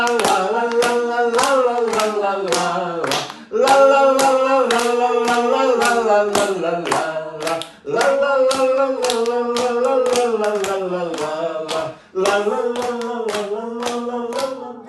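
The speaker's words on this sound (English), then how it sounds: "I'm using the clapping diagnostically in part." Children clapping their hands in steady rhythmic unison during a lecture demonstration, sharp regular claps running through sustained sung voices, with brief pauses between phrases.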